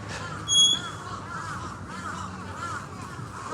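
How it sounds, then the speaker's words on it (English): A crow caws once, brief and fairly clear, over a steady hum of city traffic near Yoyogi Park, Tokyo, in snow. "Whoa, there's some big crows."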